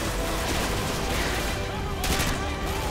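Dense, continuous bursts of gunfire from the video game Call of Duty Modern Warfare 2 crackle loudly throughout, with a person talking over the shooting.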